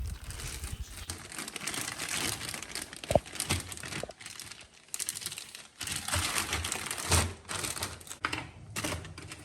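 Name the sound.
packing frozen cubes into zip-lock plastic bags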